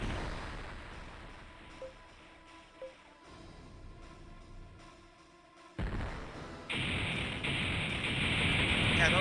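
Ship guns open fire in the space strategy game Infinite Space, with a couple of small blasts early, then a loud, sustained barrage of roaring gunfire building toward the end.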